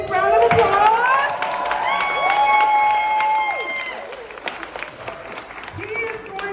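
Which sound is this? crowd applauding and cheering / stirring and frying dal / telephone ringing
crowd applauding and cheering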